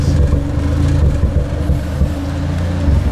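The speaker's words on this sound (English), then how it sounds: "you can hear the exhaust doing this weird stuff now too" A Toyota Supra's exhaust idles loud and close in a low, uneven rumble, the pulses wavering and stumbling erratically without talk over them.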